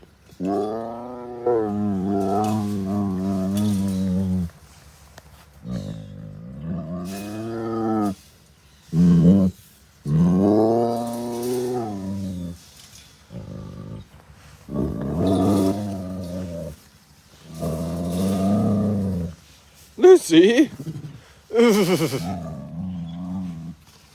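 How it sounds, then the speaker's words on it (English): A tiger at a wildcat sanctuary makes a series of close, loud vocal bursts, chuffs, moaning moos and talking sounds, separated by short pauses, with no human voices. "chuffing, mooing, tiger talking."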